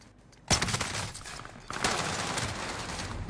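Dense, rapid gunfire rattles through a battle royale video game, with two loud sustained bursts of automatic shots close up, and a brief gap between them.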